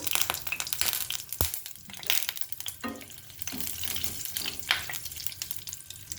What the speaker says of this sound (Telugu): ఆవాలు, జీలకర్ర, ఎండుమిర్చి వేస్తున్నాను.